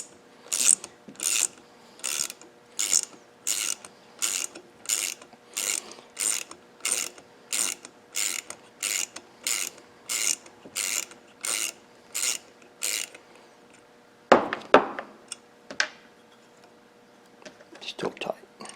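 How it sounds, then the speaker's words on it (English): A screw is loosened on a Yaskawa SGMG-20V-2AB servo motor with a ratcheting tool, giving a steady run of close, evenly spaced ratchet clicks followed by a few looser, scraping mechanical clacks. "Let's go in here and loosen up that screw."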